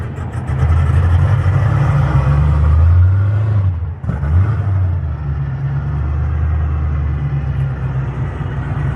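A car engine rumbles loudly and revs up and down, with a brief dip before settling into a steady, throaty idle.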